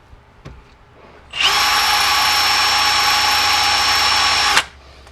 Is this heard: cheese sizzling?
no